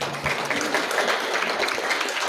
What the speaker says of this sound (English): How about another round of applause, please?